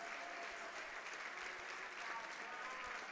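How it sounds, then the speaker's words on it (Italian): A football crowd in the stands applauds a player during a Serie D match between Prato and Trestina, a broad, distant, steady wash of clapping heard faintly through the broadcast. "Mentre gli applausi adesso sono per Yusuf Cela"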